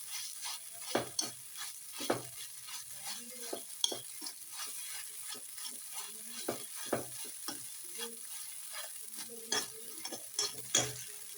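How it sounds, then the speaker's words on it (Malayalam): Maida flour, dough and egg mixture roasting in a pan while being stirred: soft, steady sizzle under repeated close scrapes and light taps of a spoon against the pan, no voices. "ഇവിടെയല്ലേ, ഇങ്ങനെ ഒന്ന് മിക്സ് ചെയ്ത് റോസ്റ്റ് ചെയ്തെടുക്കണം"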